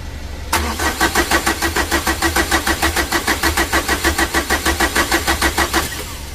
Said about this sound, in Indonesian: Untuk mesinnya sudah hidup teman-teman ya. Ini awal hidupnya.